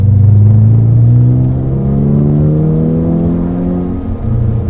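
A turbocharged Rossion Q1 exotic car accelerates loudly from close by, its engine note rising steadily and continuously while rumbling, with no one speaking.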